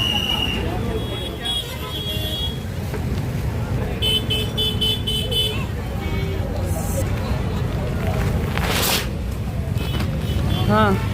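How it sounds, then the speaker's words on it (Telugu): Busy city street with dense traffic and bursts of car and bus horns honking near and far, over a constant roar of engines, with a voice talking through it. "ఇక్కడ ట్రాఫిక్ ఎక్కువ ఉంది"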